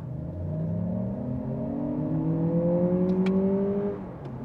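A Lexus RX 500h F-Sport Performance engine revs steadily upward, its pitch climbing for several seconds and then dropping off, heard close and fairly loud with no talking.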